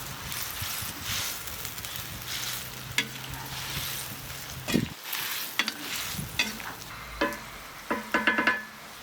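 Beans with sausage and bacon, bay leaf, peppers and coriander are stirred in a cauldron over a fire, a steady sizzle with scraping spoon strokes and a few sharp metallic knocks near the end, outdoors with light wind.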